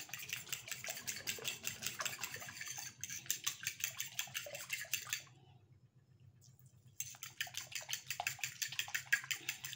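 Beaten egg mixture for steamed egg poured through a strainer, a faint, steady rapid dripping and pattering into a bowl with a short quiet pause midway before resuming.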